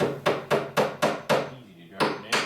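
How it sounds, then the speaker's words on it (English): Steel hammer driving a nail into plywood while building a platform bed, a close, loud series of about eight sharp, evenly spaced blows with a short pause before the last two. "Then I have to try and drive one of these with my hammer, which is really not that hard."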